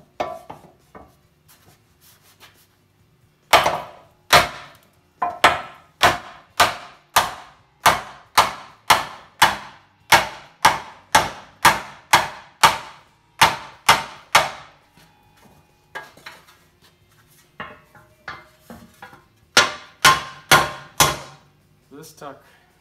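Rapid, sharp hammer blows ring out on sheet metal in quick bursts, dozens of strikes with brief pauses between runs, close and loud, while shaping a 1950 Chevy cab corner.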